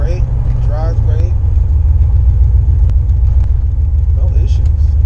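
A turbocharged LS-swapped 1996 Impala SS cruising, its deep steady engine rumble droning loud and close throughout, with someone talking over it.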